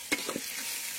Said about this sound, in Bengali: পেঁয়াজ লঙ্কা যাতে না ধরে যায় কড়াইয়ের নিচে, তার জন্য বারে বারে নাড়তে থাকতে হবে